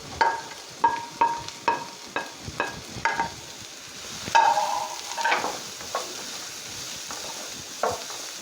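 Ingredients such as onion, capsicum, cashews and raisins frying in coconut oil in a pan for a Kerala honey chicken roast, a steady sizzle broken by a run of regular stirring scrapes and clinks, then sparser stirring.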